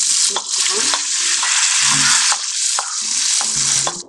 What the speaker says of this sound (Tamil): இப்போ நல்லா செவந்துச்சு, நல்லா பொரிஞ்சிச்சு